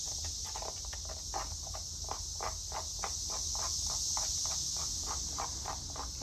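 A dense, continuous high-pitched buzz of cicadas fills the background, steady and fairly loud, with soft rhythmic footsteps or tapping underneath.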